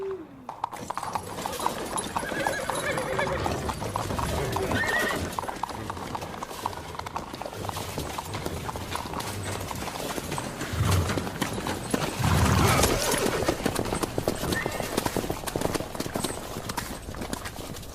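Horses galloping in The Witcher 3 video game, continuous rapid hoofbeats with an occasional whinny, loud and close, with faint game sounds mixed in.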